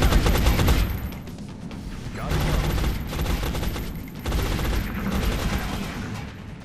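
Suppressive gunfire in a video game, loud repeated automatic bursts in waves roughly every second or two, dense and close throughout.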